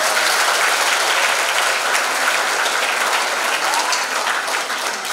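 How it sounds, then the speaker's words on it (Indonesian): Teachers at a seminar in Darussalam Gontor Putri 5 clap together, a dense, continuous wash of applause, loud and steady throughout with no voices over it. "berikan tepuk tangan kita untuk Nusantara."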